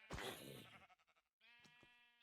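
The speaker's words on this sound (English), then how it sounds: "Oh, I hurt the sheep." A sheep in a video game bleats after being hurt, giving one loud close cry followed by a second shorter bleat after a brief pause.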